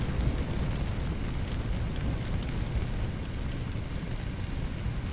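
Fire roars in the Firefighting Simulator The Squad video game, a dense, steady crackling rumble that fills the whole stretch, loud and continuous with no talk.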